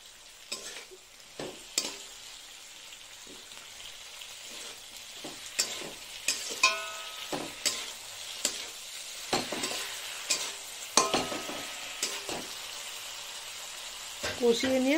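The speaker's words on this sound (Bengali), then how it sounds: "একটু কষিয়ে নিয়ে, খুব বেশি জল দেব না, একটু কষিয়ে নিই।" Green beans and potatoes frying with poppy seed paste, green chilli paste and tomato in a pan, a steady sizzle broken by frequent scraping stirs and utensil knocks, with occasional speech over it.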